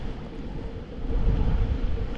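Strong gusts of wind buffet the microphone on the bank of the Oka River with a low, rumbling roar that swells louder in the second half.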